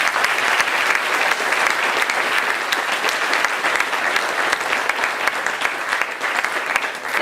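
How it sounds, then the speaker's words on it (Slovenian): A crowded audience at a Russian-themed evening concert applauds loudly and continuously for several seconds, a dense, even wash of clapping with no break. "Prosim, en aplavz."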